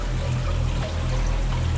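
Water trickles steadily from a drip emitter into a home aquarium that is part of an automatic water change system, a continuous close splashing under a low hum.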